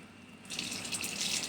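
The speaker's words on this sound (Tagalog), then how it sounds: "Dagdagan ko po ng water." Water pours into a cooking pot with a steady splashing gush starting partway in, close and continuous under faint room tone.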